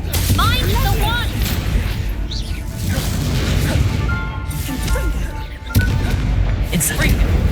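Spell explosions from the Confringo curse burst through a Hogwarts Legacy wizard duel, loud booms and crashes layered over busy game music and effects, with a sharp impact near the end as characters call out spells.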